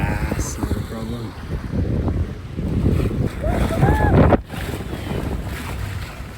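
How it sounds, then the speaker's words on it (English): Strong gusty wind of around 28 knots buffets a sailboat under a third reef, a loud roaring rush with microphone buffeting and water noise, with some voice sounds mixed in. "Who goes out sailing when it's 28 knot gusts?"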